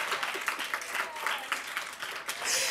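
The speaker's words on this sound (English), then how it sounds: "Y'all can clap." Clapping from the audience at a community building conference keynote, uneven bursts of hands that swell toward the end, with some voices mixed in.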